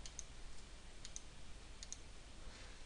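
Faint, sharp computer mouse clicks in pairs, three quick double clicks spaced about a second apart over a quiet hiss, with no talking.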